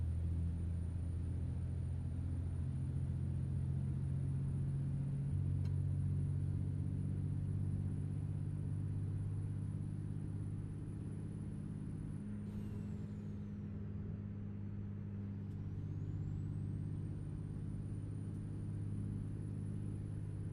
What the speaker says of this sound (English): Something tells me the engine is going to be screaming at 65.